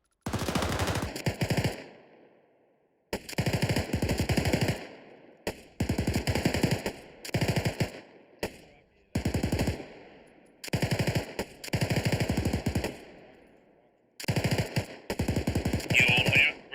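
Bursts of machine gun fire in an Arma squad training session, loud and close, coming in repeated long volleys of rapid rounds separated by short pauses.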